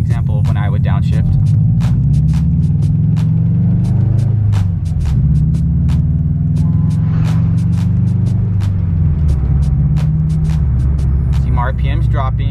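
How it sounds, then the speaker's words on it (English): A manual-transmission car's engine hums steadily inside the cabin, its revs sinking and then climbing again through a downshift as the clutch is eased out, under continuous close talking. "See, my RPM's dropping, downshift, slowly let out the clutch and the gas"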